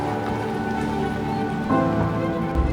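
Steady rain falling in a Welsh forest during a lunch stop on a green lane, a dense continuous patter on surfaces at even loudness, with a few slightly heavier drips near the end.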